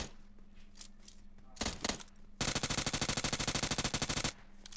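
Shotgun fire in an online shooter video game crackles in a short pair of blasts, then a long rapid burst of shots, loud and near, under excited voices.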